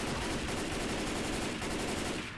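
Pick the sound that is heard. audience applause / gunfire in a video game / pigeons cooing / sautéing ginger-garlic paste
gunfire in a video game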